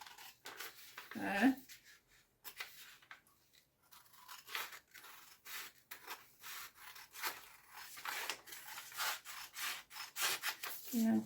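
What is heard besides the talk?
scissors cutting fabric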